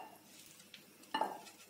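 Faint scraping and a metal clink of a spoon against a pan as dry fruit halwa is moved into a bowl, quiet and brief with a sharper knock near the end.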